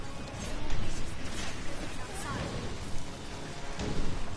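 Lightning spells crackle and rumble in battle in the fantasy action game Dragon's Dogma Dark Arisen, a thundery, rain-like wash with repeated louder crashes over a dense combat background.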